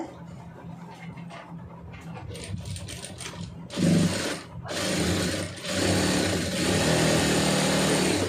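An electric sewing machine stitches a plain blouse, starting with quiet handling and then running in loud bursts of rapid, steady whirring stitches, close by with no talk over it.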